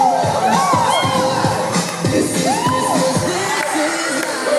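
A party crowd at a Christmas dance gathering shouts and cheers in a steady, loud wall of voices, with whoops rising above the din throughout.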